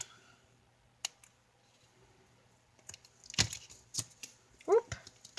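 Scissors snipping rickrack trim, a few sharp separate cuts and crunches up close, with quiet handling sounds between them.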